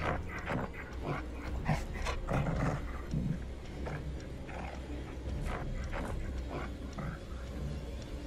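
A dog barks in the horror video game The Dark Pictures: The Devil in Me. Several short barks and whimpers come in uneven bursts over a noisy ambient background.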